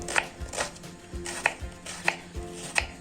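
A sharp knife chops a small dry onion on a cutting board in an uneven rhythm, about six crisp cuts close up, with a faint background hum and no voices.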